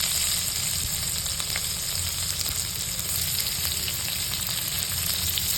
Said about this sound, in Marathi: थोडंसं मोहरी टाकायची जिरे टाकायचे आणि ठेचलेला लसूण आहे तो टाकायचा